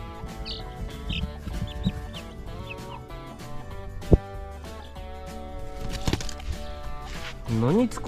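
Chickens cluck softly at close range in the evening amid a busy background of rustling and shifting noises, with a few brief squawks scattered throughout.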